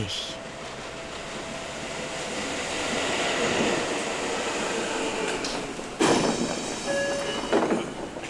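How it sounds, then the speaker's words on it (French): A train and metro ride in Japan: steady rolling rumble of rail cars with clickety-clack, a sharp bang or jolt partway through, and brief wheel squeals and tones near the end, heard from inside the carriage without talking. "Il lui faudra une bonne heure et demie de train et de métro pour y arriver."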